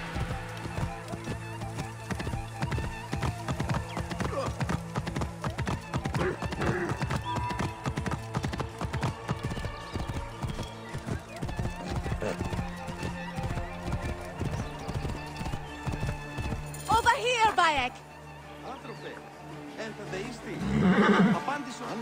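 Hooves clop rapidly and continuously as the horse Pegasus gallops in Assassin's Creed Origins, with a loud neigh near the end after the hoofbeats stop, and voices talk over the scene.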